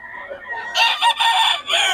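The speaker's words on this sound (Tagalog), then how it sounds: "Ang manok ni Boss Ga." A rooster crows once, loud and close, its call rising and holding with a brief break before trailing off.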